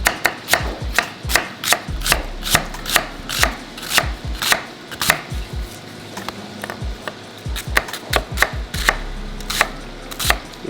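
A short kitchen knife chops onions on a cutting board for caramelized onion butter. The blade makes rapid, evenly spaced knocks in a steady rhythm, close and clear, with no talking over it.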